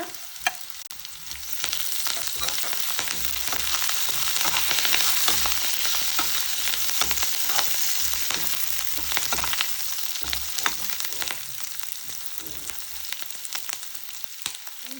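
Curry leaves frying in hot oil in a pan while making ridge gourd chutney, a steady close crackling sizzle running throughout with occasional sharper pops.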